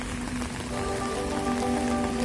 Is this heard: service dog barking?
no